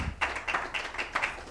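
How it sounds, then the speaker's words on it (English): Seminar audience breaks into applause, a dense burst of hand claps that swells in rhythmic waves for a moment, fairly loud and close, with no talking over it. "Please, a round of applause for him."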